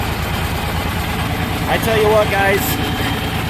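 A 1969 John Deere 4020 diesel tractor idles with a steady low, rhythmic chug close by, while someone talks over it.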